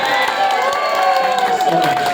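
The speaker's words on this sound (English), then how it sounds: "So should we give Kim the loudest applause ever" Office grand opening audience cheering and whooping loudly, with scattered applause and overlapping voices throughout a short burst.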